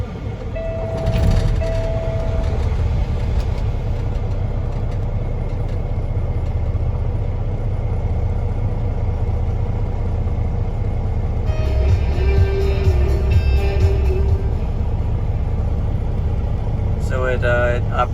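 A 2014 Peterbilt 389 glider kit daycab's diesel engine idles hot at operating temperature, a loud, steady low rumble close by throughout, with occasional higher mechanical whines and clinks.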